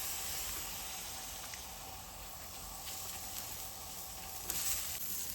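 A gobi paratha sizzles faintly on a tawa over medium heat, a steady soft hiss with a small clink near the end.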